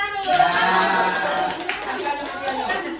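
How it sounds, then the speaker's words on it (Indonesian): A group of people, including children, claps hands together at an ice-breaking session, with the rhythmic clapping close and fairly loud under overlapping voices and chatter. "Tepuk tangan dulu."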